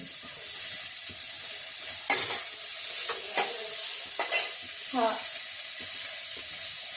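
Bitter gourd sautéing in a pan gives a steady, even hiss of frying, with a handful of brief utensil scrapes and clinks scattered across it, close up and moderate in level.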